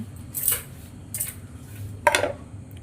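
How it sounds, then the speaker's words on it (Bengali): Malpua batter being mixed in a bowl for a kheer malpua recipe, with three short clinking, scraping bursts of utensil against the bowl separated by pauses over a low background hum. "ভালো করে মিশিয়ে নিচ্ছি সমস্ত উপকরণটা"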